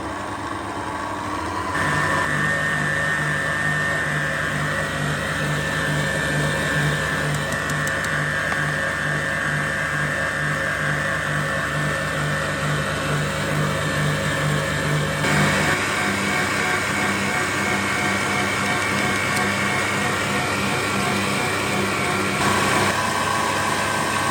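Electric mixer whipping meringue with sugar for a Kyiv cake, a steady motor whine humming continuously for over twenty seconds, shifting pitch slightly partway through as it keeps running.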